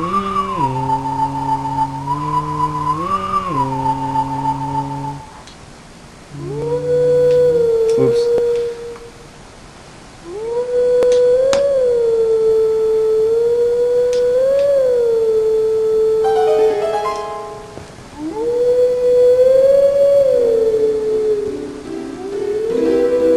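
In the video game Twilight Princess, a wolf howls a long, clear melody at a Howling Stone, with sustained wavering notes broken by short pauses.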